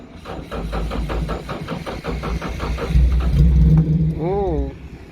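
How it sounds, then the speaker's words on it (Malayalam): A racing car engine starting cold after sitting unused for five years: close, rough engine rumble with uneven pulsing and a rising surge, under talking. "സീരിയസ്ലി അതൊരു കോൾഡ് സ്റ്റാർട്ട് തന്നെയായിരുന്നു."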